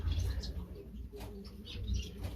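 Small caged foreign finches, a munia and spice finches, chirp in high, thin bursts while someone talks over them indoors.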